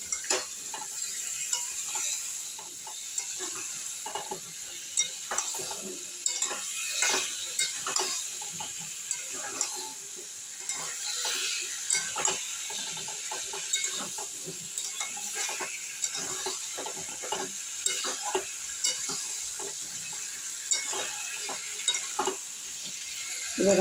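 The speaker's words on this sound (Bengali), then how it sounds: "এবার আলুটা আমি এর মধ্যে দিয়ে দেবো, দিয়ে এইভাবে একটু নেড়ে নেব।" Potatoes stirred in a frying pan for a vegetarian Bengali potato curry: a soft continuous sizzle with frequent spatula scrapes and taps against the pan, moderately close, no voices.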